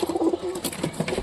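Caged pigeons, including a Giribaz, give a string of soft, close cooing pulses in quick rhythm, followed by a few rustling shuffles inside the enclosure.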